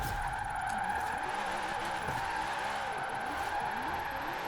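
A Zenvo car with drift suspension and a locked differential slides downhill in Forza Horizon 4, giving a steady tire-skid squeal with a constant engine tone underneath, sustained and fairly loud throughout with no talking.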